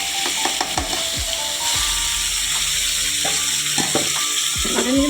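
Mutton sizzles in a pan with fried onions, a steady close hiss broken by repeated scraping and clinking of a spoon as the meat is stirred.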